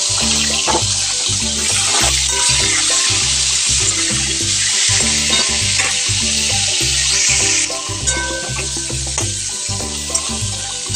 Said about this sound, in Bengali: এবার পটলগুলো এক এক করে ভেজে নেব।